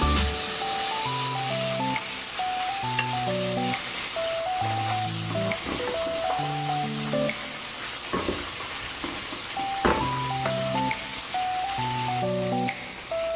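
Fish sauce (patis) hits sautéed tomato, onion and garlic in a pan, giving a steady frying sizzle with a few sharper crackles, heard under a looping background melody.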